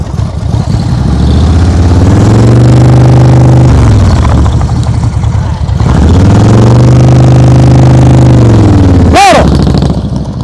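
A motorcycle engine during slow-speed riding practice, loud and close, its throttle held up in two long sustained revs with pitch rising and dipping, a brief lull between them and a sharp squeal-like blip near the end.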